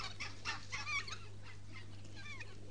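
A rooster clucks in a rapid series of close, moderately loud calls over a steady low hum, with the clucks clustered in the first second and a few more near the end.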